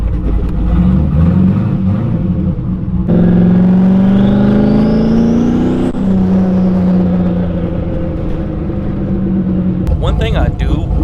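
A turbocharged Camaro roars through a long, loud burnout, the engine revving hard and holding high with rising pitch, then cutting off near the end.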